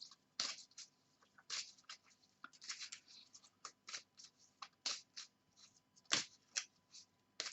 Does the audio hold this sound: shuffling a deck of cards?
yes